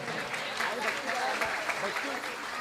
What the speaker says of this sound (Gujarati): એકવાર જોરદાર તાળીઓ આ બધા જ કલાકારોને વધાવજો.